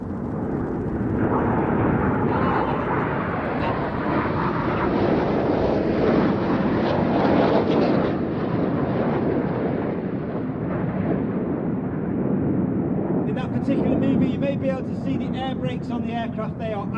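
Red Arrows display jets roar overhead at an air show, a loud sustained jet rush that swells and holds for the whole stretch, with a crowd and faint voices mixed beneath.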